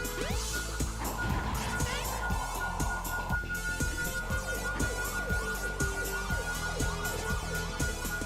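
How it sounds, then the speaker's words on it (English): A police car siren in the Sonic Adventure DX video game, a loud continuous wailing siren mixed with dense game sound effects and music throughout. "Is it that police car?"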